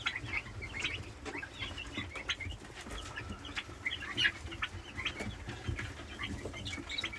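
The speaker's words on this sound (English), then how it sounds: "This is one of the turkeys." Farm turkeys kept alongside egg chicks and meat birds call in short, scattered chirps and clucks over a low outdoor rumble, moderately close and continuing without pause.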